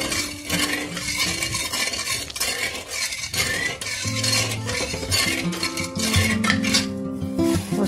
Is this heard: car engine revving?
no